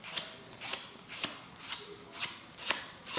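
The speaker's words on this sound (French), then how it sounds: "On va placer la première carte face en l'air et le paquet au-dessus" Playing cards are slid and placed onto a deck, giving about seven soft, papery swishes in an even rhythm, close and quiet, no speech.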